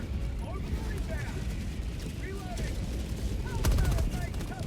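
Stalwart machine gun in Helldivers 2 firing in sustained bursts amid chaotic battle noise, with scattered electronic effects and someone talking over the action.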